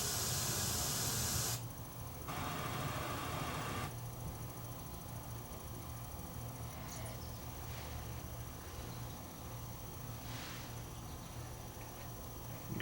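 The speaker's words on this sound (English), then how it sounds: "It's got a bunch of test signals on here too after the music, like pink noise." A steady, even broadband pink noise test signal hiss from a Sony SCD-C555ES Super Audio CD player runs throughout, slightly brighter and louder at the very start, with no voices or other sounds.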